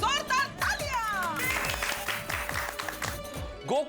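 Applause from a residential society gathering for the sister-in-law during Ganesh festival planning, scattered clapping under overlapping voices and chatter, with talk continuing throughout.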